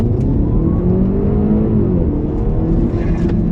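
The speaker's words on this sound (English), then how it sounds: "I'm just gonna floor into first gear, just gonna put my foot down, no launch, no nothing." A car accelerates hard from a standstill in first gear with the foot flat, no launch control, engine note climbing loud and steady up to an automatic gearshift, recorded from inside the cabin.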